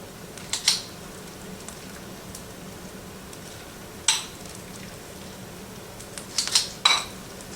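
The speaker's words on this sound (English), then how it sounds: "I get to scoop my hamburger meat into each shell." Hamburger meat scooped into taco shells, a few scattered clinks and scrapes of a utensil against a dish, short and sharp against a quiet background.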